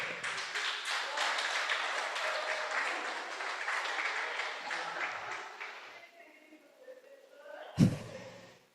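A church congregation applauds, a dense, steady roar of many clapping hands for about six seconds that fades out, followed by a brief vocal exclamation and a knock near the end.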